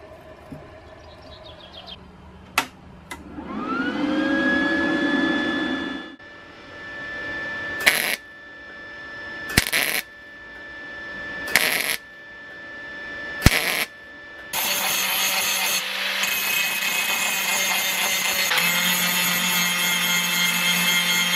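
Metal being deburred for a homemade rainwater collector: a steady whining tool sound lasts a few seconds, then about five short, sharp bursts follow with pauses between them, and a denser rough scraping noise carries on toward the end.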